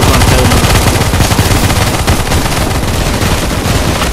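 Dense, continuous automatic gunfire from CS:GO in the Zombie Escape mod on the ze_chaos_v7_4f map, loud and relentless with overlapping rapid shots and no pauses.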